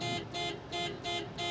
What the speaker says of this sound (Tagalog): So ganito yung maririnig nyo na stock to stock na tunog ng busina ng Honda Civic RS